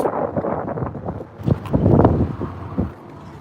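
Strong wind buffets a microphone outdoors in Las Vegas in a run of rough, irregular low gusts that swell loudest midway and then drop off.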